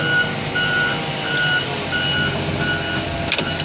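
Truck reversing alarm beeping at a steady rhythm, about five evenly spaced beeps, over a continuous broadband engine and traffic rumble, with a brief clatter near the end while trash is loaded into the back.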